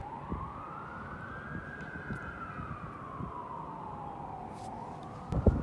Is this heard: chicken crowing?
no